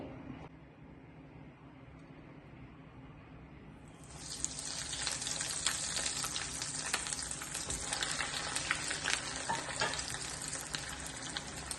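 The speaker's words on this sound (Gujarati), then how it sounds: "આપણે એને ફ્રાય કરી લઈશું. તમે જોઈ શકો છો આવી રીતે અંદર તળી લેવાના છે." Veg bread rolls deep frying in oil on a low flame make a soft bubbling at first, then a loud, dense, steady sizzle swells up after a few seconds and keeps going to the end, heard close and with no talking.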